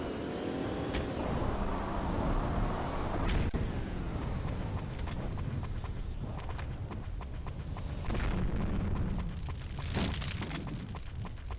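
Remote-triggered bomb going off beside an apartment block in the video game Payback 2: a dense, loud rumbling blast that carries on as continuous debris and crackling noise throughout.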